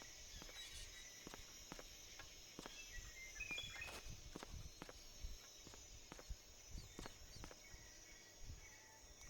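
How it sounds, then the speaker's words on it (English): Snake's footsteps in Metal Gear Solid 3 tap in a steady, fairly regular series of crisp, close steps, with faint insect-like jungle ambience underneath. "I really don't like the sound effect of the footsteps because they really throw me off."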